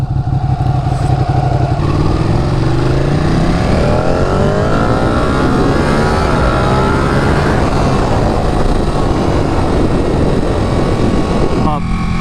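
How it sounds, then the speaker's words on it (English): A motorcycle engine revs loudly while the bike is ridden, its pitch sweeping up and down through repeated throttle changes over steady wind and road roar. "It's beautiful getting out on a bike."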